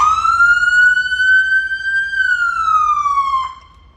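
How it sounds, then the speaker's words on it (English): A loud Bryan Police Department car siren wails close by in one long rising and falling sweep, then cuts off abruptly. "you guys just turned on the siren"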